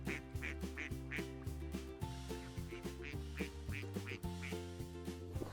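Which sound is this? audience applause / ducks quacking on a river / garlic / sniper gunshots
ducks quacking on a river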